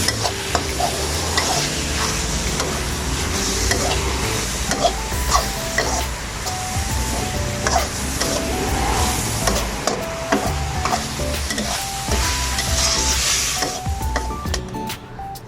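Minced pork and holy basil stir-frying in a hot pan: continuous loud sizzling with steady scraping and clinking of the spatula against the wok throughout.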